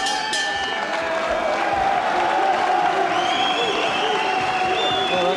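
A boxing crowd at a 1992 fight night erupts as a fighter nearly drops his opponent at the bell, loud sustained cheering, whoops and applause filling the hall with whistles on top.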